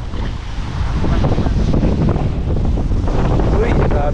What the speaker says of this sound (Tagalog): Lakas na ng hangin pala dito sa kabila.